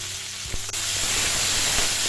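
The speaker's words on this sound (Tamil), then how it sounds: "இதோட கொஞ்சமாக கருவேப்பிலையும் சேர்த்து வதக்க போகிறேன்." Ginger and curry leaves sauté in oil in a pan for Jaffna-style fried chilli coconut sambal, a loud, steady sizzle and hiss with a couple of brief stirring knocks, close up and with no voices.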